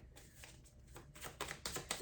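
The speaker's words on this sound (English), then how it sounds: "Okay, too many cards. I'll keep shuffling." Quiet, close riffling of cards, soft flutters repeating in quick bursts that grow a little louder toward the end.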